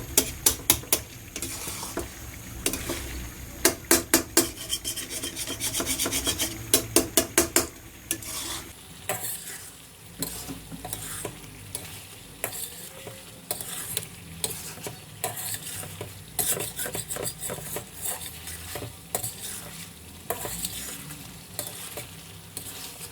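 Chicken karahi frying in a wok, restaurant style, with a steady sizzle under repeated scraping and clinking of a spatula against the metal pan as it is stirred, close and fairly quiet, with no talk.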